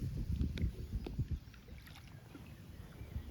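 Kayak paddling and drifting on water, with a few low splashy paddle strokes and faint wind rumble early on, then a quieter drift.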